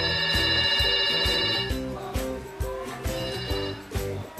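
A telephone rings with a loud electronic ringtone, a repeating melodic tone pattern with regular rhythmic pulses that continues throughout, with no voices.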